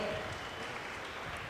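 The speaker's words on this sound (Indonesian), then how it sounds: "boleh sekali lagi tepuk tangannya untuk acara pada hari ini" Audience at a youth dialogue event applauding, a brief, steady wash of many hands clapping at moderate distance, with no speech over it.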